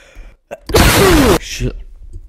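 A single loud, explosive sneeze bursts out after a short inhale, followed by a brief breathy exhale.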